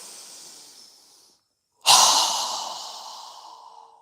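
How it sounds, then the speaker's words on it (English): A single strong, breathy exhale pushed out through a wide-open mouth during yoga breathing, loud and close, trailing off slowly after a brief silence. "exhale with a strong breath with our mouth open wide"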